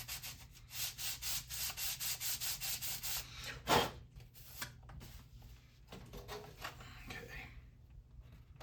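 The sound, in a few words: lightly scuffing a surface down by hand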